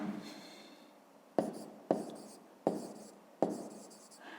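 A pen writes an answer for a math exercise in a series of short strokes, four sharp taps followed by scratchy trails, close and quiet with no talking.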